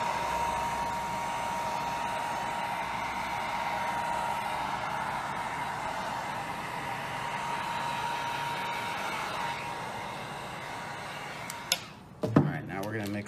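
Heat gun blowing hot air over a glow-in-the-dark resin pour, a steady whooshing drone running nearly throughout, then cutting off with a few clunks and rustles at the end.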